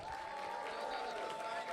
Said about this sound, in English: one more round of applause for Sergio